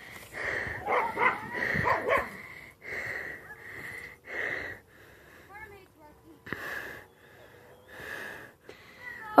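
A dog out for exercise pants and wheezes hard with a few short barks mixed in, fairly close, in uneven bursts between quieter gaps.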